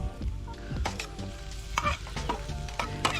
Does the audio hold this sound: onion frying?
yes